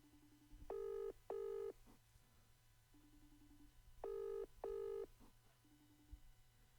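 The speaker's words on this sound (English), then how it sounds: "Someone answer the phone, please." Telephone call left ringing unanswered: a steady low ringback tone repeats between bursts of loud dialing-style tones, two pairs of bright beeps over a quiet background with no voices.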